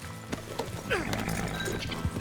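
In the video game Red Dead Redemption 2, hooves clip-clop steadily on the ground while a horse lets out a short whinny, with a faint voice murmuring under it.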